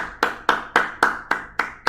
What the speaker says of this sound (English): Time to clap!